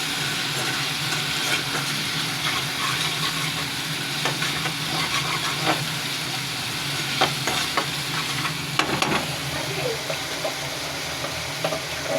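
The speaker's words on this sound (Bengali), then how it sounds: "তো ভালো মতন আমি মশলাটা কষিয়ে নিচ্ছি" Spice paste sautéing in a pan for a koi fish curry gives a steady, close sizzle with scraping stir strokes and occasional louder clinks, continuous throughout.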